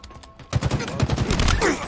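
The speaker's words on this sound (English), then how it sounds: "New rockets are popping right now." Rocket launcher fire and explosions in Halo Infinite multiplayer, a quiet lull then a burst of rapid loud blasts and gunfire packed densely through the second half.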